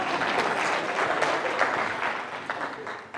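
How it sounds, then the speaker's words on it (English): An audience at a sales conference claps steadily, a dense and fairly loud wash of applause that fills the room throughout, with a few voices mixed in. "let's clap hands for him"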